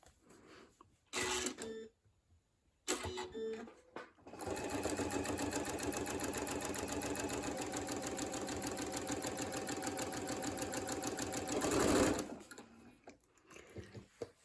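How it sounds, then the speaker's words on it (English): A sewing machine stitches together 9-patch quilt pieces in a long steady run of fast mechanical whirring and rattling. A couple of short starts come first, then one sustained close burst that stops abruptly. "I'm going to sew those together"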